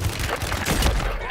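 Gunfire in Call of Duty rumbles on continuously as a dense, muffled roll of distant shots, steady in loudness throughout.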